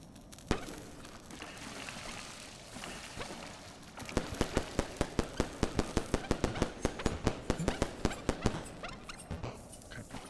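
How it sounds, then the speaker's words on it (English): Fireworks go off in the video game Animal Well as a rapid run of sharp crackling pops. They start over a noisy background and quicken into a dense, rhythmic burst lasting several seconds. "So they are distracted by fireworks."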